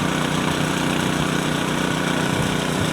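A concrete power trowel's small engine runs loud and close during a barn floor pour, a steady rough drone with a throbbing, uneven chug as the machine hops on the slab.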